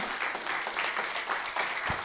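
A church congregation applauds in a broad, steady wash of clapping that fills the whole moment, with no talk over it.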